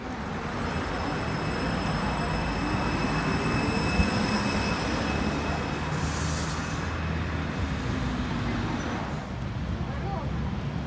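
A metre-gauge tram rumbles past along a green boulevard in Arad, Romania, with steady rolling wheel noise and a high metallic whine, loud and continuous, with traffic around it.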